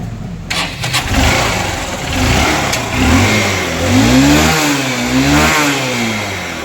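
A Honda motorcycle engine (Shine, CB Unicorn or CBF Stunner type) cranks and fires up after a carburettor fitting, then settles into a loud, close idle with a few throttle blips rising and falling.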